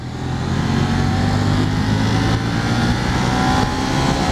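A Ducati Monster 1200R motorcycle accelerates hard in sport mode, its engine roaring steadily and loudly close by, a dense sustained drone with slight pitch shifts throughout and no talk.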